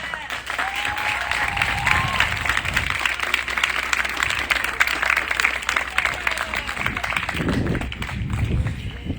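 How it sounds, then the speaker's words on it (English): An audience at a graduation ceremony breaking into sustained applause, dense steady clapping with scattered cheers and shouts from the crowd across the whole stretch. "Class of 2021, turn around and give your village, your provision, a round of applause."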